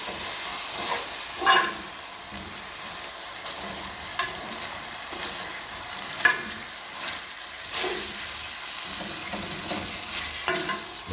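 Lentil peas fry in a pot with a steady close sizzle, broken by occasional scraping stirs.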